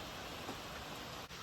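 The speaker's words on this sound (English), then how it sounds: "Guys, it's raining." A steady, even hiss of rain falling, soft and continuous with no voices.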